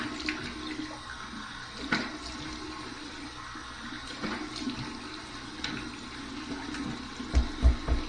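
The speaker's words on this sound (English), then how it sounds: "here's my cold water rinse." Cold water runs from a tap into a sink for a rinse after shaving, a steady continuous splashing stream, moderately close and fairly quiet, with a few light knocks near the end.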